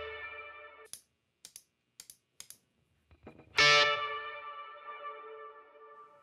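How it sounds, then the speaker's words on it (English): Electric guitar through a Fender Tweed amp with golden reverberator spring reverb: a sustained chord, several short muted clicks and plucks, then a bright strummed chord that blooms and decays into a lingering splashy spring tail. "I'm looking for that classic spring sound here on the golden reverberator"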